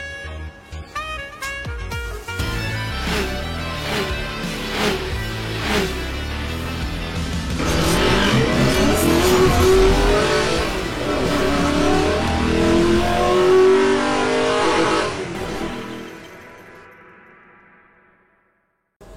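A Suzuki R3 (Ertiga) smart hybrid family car, GX trim, accelerating and revving with a steady, loud engine drone that builds and holds, then fades away near the end.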